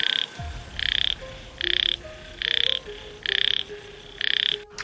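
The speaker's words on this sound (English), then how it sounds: "Frogs." Frogs croaking in a steady series of six loud, evenly spaced pulsing bursts, each about half a second long, with faint background noise between them.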